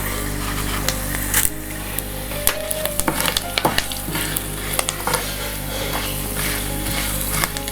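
Chana dal, urad dal and curry leaves sizzle in hot oil as a tempering for curry leaf chutney, a steady close frying hiss broken by occasional sharp crackles and stirring clinks, with no voices.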